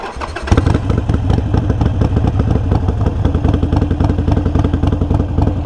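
A motorcycle engine cranks briefly and then catches, settling straight into a loud, close, steady idle with a rapid pulsing rumble.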